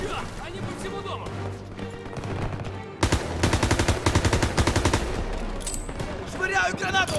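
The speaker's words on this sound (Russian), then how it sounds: "Пулеметы на лестнице." Rapid machine gun fire in Call of Duty: WW2 during a fight for a house's main staircase, loud rhythmic bursts after a quieter opening, with shouted voices mixed in.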